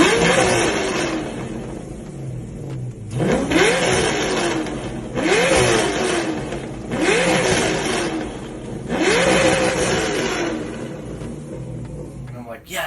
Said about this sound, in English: I made the truck sound like a Corvette.